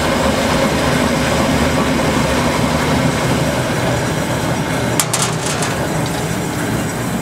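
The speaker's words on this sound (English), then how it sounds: "The motor is, as you can hear, it's pretty good, nice and smooth." A Grob TC4L vertical band saw motor runs steadily in a workshop, a loud, even hum with a brief clatter about two-thirds through and no talking.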